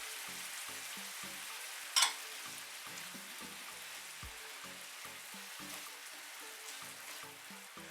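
Chicken frying with spices, soy sauce and chili sauce, a soft, steady sizzle and crackle in a pan with one brief, sharper clatter partway through.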